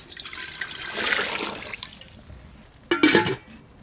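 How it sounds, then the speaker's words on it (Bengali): Water is poured into a pot to cook rice for mixed fried rice in a home kitchen, a soft splashing stream that fades and then returns as a brief, louder gush near the end. "জল,"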